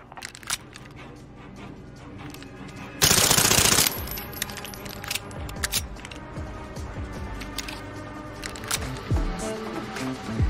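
Makarov (Sykov) pistol fire in the video game Warzone rings out as a series of sharp, loud shots, with a dense blast of noise near the middle and scattered cracks and mechanical clicks around it.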